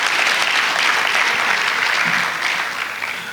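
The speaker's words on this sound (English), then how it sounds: "I think you could applaud for yourselves louder than that" Graduates at an induction ceremony applaud themselves. The clapping is steady, bright and full, a large crowd heard continuously, and it eases slightly in the last second.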